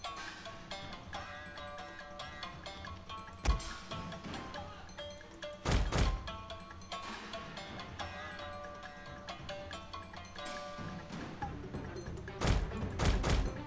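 Scattered musket volleys and thudding impacts from a Shogun 2: Fall of the Samurai battle crack over a dense game soundscape with music, with heavier bursts every few seconds.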